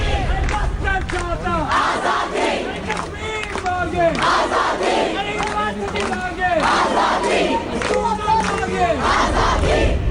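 A large crowd of students in Delhi chants slogans in unison with rhythmic clapping, a loud, dense, repeated call-and-response cadence that carries without pause.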